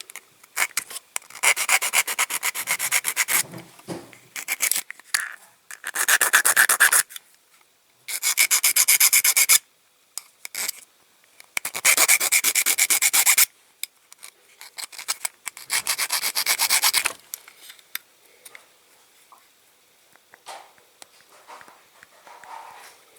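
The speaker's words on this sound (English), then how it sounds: "I'll just file the axles a bit." Hand file rasping on the metal axles of a Dinky Toys die-cast ABC TV van during restoration, close scraping strokes in repeated bursts with short pauses between them.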